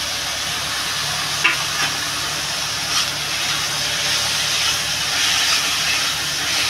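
Tomato and green chilli sizzling in hot oil with a ground coriander and cumin spice paste for a Bengali tilapia curry, a steady close hiss with faint stirring clicks.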